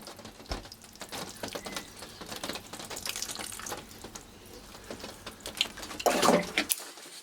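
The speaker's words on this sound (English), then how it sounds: "Next, water the compost." Water poured from a can onto compost in a seed pot before sowing foxglove seeds: a steady close-up trickle and splash that swells into a louder gush near the end, then stops abruptly.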